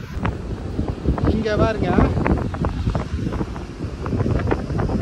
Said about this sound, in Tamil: நல்லா காற்று உசுன்னு அடிக்குது